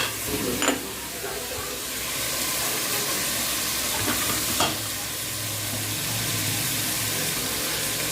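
Tomatoes and green chillies with a pinch of salt sautéing in a pan, a steady close sizzle with occasional stirring scrapes throughout.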